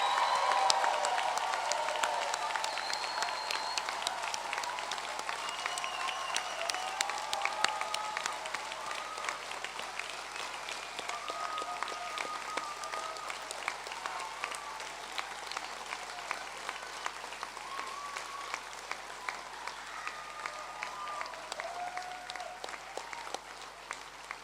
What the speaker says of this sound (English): let's raise the roof for a final round of applause to congratulate our graduates